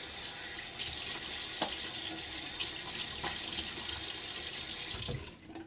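Tap water runs steadily into a sink while a face is wetted before a wet shave with hard water, a continuous close rushing with small splashes that stops at the end.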